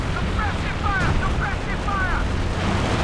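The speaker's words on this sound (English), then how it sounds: "we've got the sector assault artillery rather coming down as well" In Company of Heroes 2, a sector assault artillery barrage pounds down as a continuous low rumble of overlapping booms, with faint voices mixed in.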